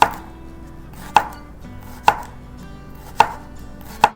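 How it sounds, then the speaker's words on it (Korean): A knife chops through the white part of a green onion, five crisp, evenly spaced thuds on a cutting board, close and clear with no voices. "대파는요, 흰 부분인데 요거 이렇게 반으로 먼저 가르고 그 다음에 쫑쫑쫑 썰어서"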